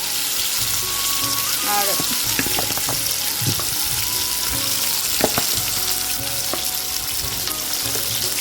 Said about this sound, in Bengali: এখানে হচ্ছে বেগুন ভাজা